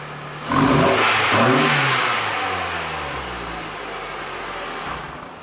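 A Mitsubishi Lancer engine revs hard through an aftermarket bolt-on exhaust with a rough, raspy roar, climbing in pitch and then falling away as the revs drop.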